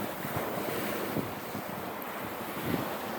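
Surf breaks on a wet sandy beach, a steady wash of waves with wind buffeting the microphone throughout and a couple of slightly louder surges, no voices.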